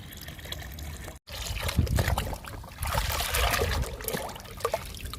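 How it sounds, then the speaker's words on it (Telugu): Liquid fertilizer poured onto a potted jasmine plant, a close steady trickle and splash of liquid running for several seconds with a brief break near the start. "విరజాజికి ఇస్తున్నాను లిక్విడ్ని."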